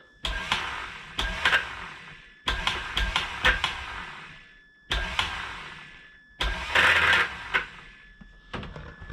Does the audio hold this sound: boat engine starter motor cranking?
yes